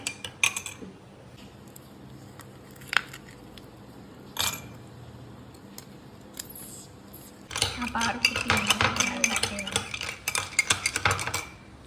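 Ginger and green chilli are mixed with a spoon in a kitchen, with scattered clinks at first, then a busy run of rapid scraping and clattering against the vessel; a voice speaks faintly at times.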